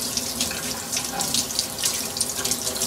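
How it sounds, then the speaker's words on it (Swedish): A water tap runs steadily into a sink while a paintbrush is rinsed under it, a constant close splashing stream with no talk. "När vi ska tvätta en pensel så gäller det att vara sparsam med vattnet också."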